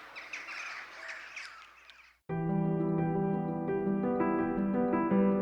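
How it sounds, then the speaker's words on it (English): Birds in Matera at evening caw and squawk in a busy cluster of calls, then the sound cuts off abruptly at about two seconds and sustained music takes over. "a flock of birds takes flight, heading into the fading light of the evening"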